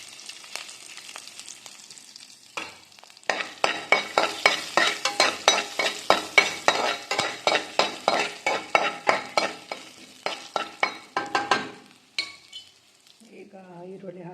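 Turmeric frying in a pan while a utensil stirs and scrapes it in a steady rhythm of clear, close strokes over a soft sizzle, with a brief bit of other sound at the end.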